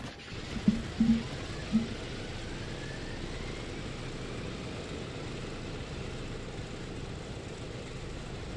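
Douglas DC-6 piston aircraft engine running in a flight simulator, a steady low rumbling drone after a few brief knocks at the start, continuous and moderately loud with no voices.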